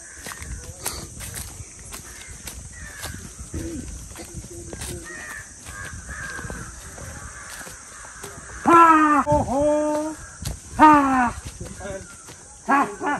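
Crows cawing among litchi trees on an integrated farm in Gorkha, Nepal, with loud harsh caw bursts late in the clip over faint background bird calls and footsteps.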